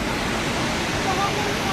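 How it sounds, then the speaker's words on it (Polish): Savica waterfall in Slovenia pours as a loud, steady broadband rush of falling water, close and continuous throughout the short stretch. "Dobra, dotarłem. Wodospad Sawica"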